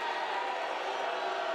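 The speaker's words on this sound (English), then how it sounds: "And the home crowd very upset about it." A home crowd at a Villanova vs Creighton women's basketball game reacts, upset at an offensive foul call, in a brief, steady, faint murmur of voices from the stands.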